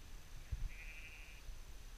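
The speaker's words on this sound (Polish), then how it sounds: "Kuźwa to owce w hotelu śpią" A sheep gives one brief, faint bleat outdoors, heard at a distance over light background noise.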